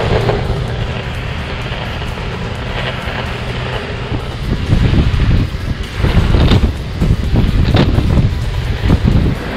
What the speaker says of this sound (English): Just past 6 kilometers